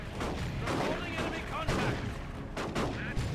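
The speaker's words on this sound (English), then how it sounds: "And the shotguns are decent, aren't they?" Shotgun fire in the Dawn of War 2 real-time strategy game crackles in rapid repeated bursts amid battle noise, moderately quiet and layered under a commentator's talk.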